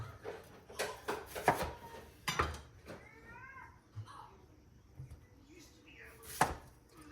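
A vegetable is sliced with a knife on a home kitchen cutting board: a handful of sharp, separate chops at irregular intervals, close by, with quiet gaps between them and a faint cat meow in the background.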